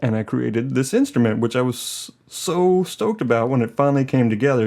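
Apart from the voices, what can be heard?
No everyday noises stand out.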